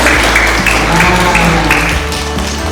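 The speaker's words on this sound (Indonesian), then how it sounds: "Tepuk tangan yang kencang" Children clap loudly together at a preschool colouring competition event, a dense burst of clapping over steady background music and crowd noise.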